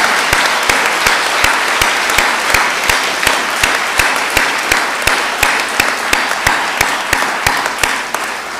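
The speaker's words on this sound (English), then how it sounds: "So, let's applaud him." An audience at an art prize awards gala breaks into sustained applause, dense steady clapping with sharp individual claps standing out, continuous and close throughout.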